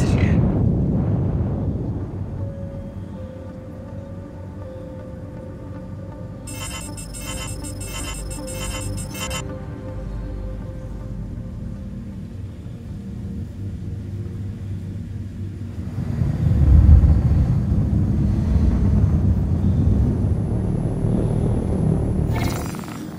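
Constellation Andromeda spaceship lifting off in Star Citizen, a deep steady engine rumble that swells into a louder roar partway through, with a brief chiming alert tone and a synthetic cockpit voice.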